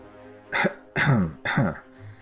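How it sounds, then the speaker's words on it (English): Three harsh coughs in a row, evenly spaced and close, each a sharp raspy burst separated by short pauses. "King Adam managed to nod between coughs"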